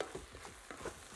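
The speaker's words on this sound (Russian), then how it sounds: "Перемешиваю." A spoon stirs a sizzling dish seasoned with allspice, bay leaves, sweet red paprika and black pepper, a soft, close frying hiss broken by faint scraping strokes.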